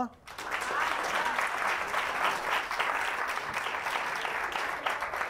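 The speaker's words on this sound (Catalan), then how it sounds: "Vinga, aplaudiu-lo, no?" A studio audience breaks into applause for a contestant on a television word-spelling game show, starting after a brief pause and then holding as a steady, dense clapping throughout.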